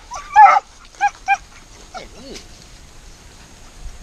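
Hunting dogs out on a wild boar hunt give a few sharp, close barks and yips, then let out whimpering whines between them, with faint background noise throughout.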